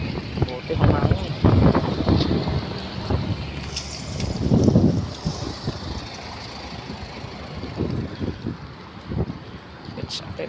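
Wind gusts across an open street crossing near a university campus in Manila, a broad steady rush with louder swells and rumble from passing traffic underneath, while people talk nearby.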